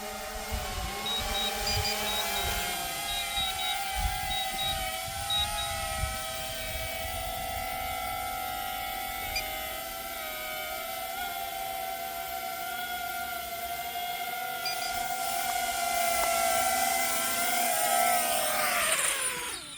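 A DJI Mini 4 Pro drone flies and comes in to land outdoors, its steady high-pitched propeller whine holding throughout at moderate distance.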